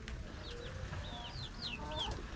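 Laying hens cluck and call in their coop, several short rising and falling notes over a low background murmur, close and moderately loud, with no talk.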